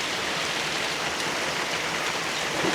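Heavy rain pours steadily in front of a shop veranda where a soaked chicken has taken shelter, a dense, even hiss of downpour filling the scene close by with no voices.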